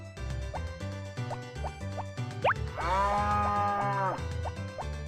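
Cows moo in a PlayStation 1-style demake of Stardew Valley, with several short synthesized lows followed by one long drawn-out moo over a steady game music background.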